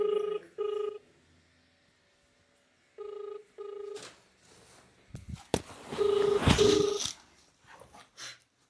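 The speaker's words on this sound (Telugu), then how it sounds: "మా చెల్లి నిజంగానే ఫోన్ చేస్తుంది." Phone ringing with an incoming call indoors, two short bursts of ring tone, a pause, then two more, followed by rustling, a loud thump and another pair of rings.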